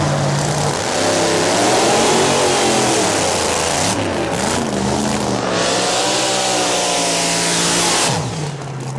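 A 1987 Ford Taurus station wagon drag car with a big-inch Ford engine roars loudly, revving up and down in sweeping pitch changes over about nine seconds, with a brief dip in the middle before rising again and fading.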